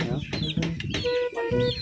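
Fighting-cock chickens for a derby cluck and squawk close by in quick, overlapping calls, with a low murmur of activity around them.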